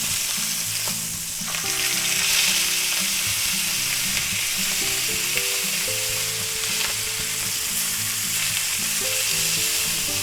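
Breakfast pork chops fry loudly and steadily in a pan, a dense close sizzle with scattered scrapes and clinks as they are turned, lasting throughout without voices.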